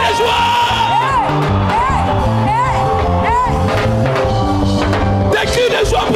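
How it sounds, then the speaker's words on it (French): A loud crowd at a French-language Christian worship gathering shouts and whoops with joy, with overlapping yells and rising cries over a continuous backing of music. "Est-ce que tu peux pousser des cris de joie?"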